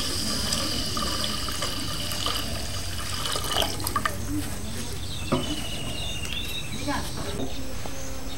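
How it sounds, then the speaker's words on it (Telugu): Water poured into a pot on the stove, a steady close trickle and splash with a few drips over a kitchen background, with a voice talking over part of it. "వాటర్ వేసుకుందాం"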